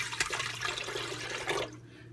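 Super-cold, slightly frozen juice pours steadily into a blender for about a second and a half, a continuous splashing gush that stops abruptly, leaving quiet room noise.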